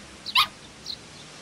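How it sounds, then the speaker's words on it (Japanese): A small dog, likely a puppy, gives a couple of short, high yips and whimpers in a quiet outdoor scene from the anime Sword Art Online, fairly faint and brief with no talking. "犬？"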